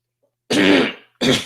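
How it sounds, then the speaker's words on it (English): Two harsh coughs in close succession from a person during a casual online chat, the first burst longer and the second short, both loud and close with silence before them. "I was just coughing"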